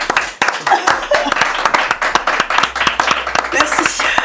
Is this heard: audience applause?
yes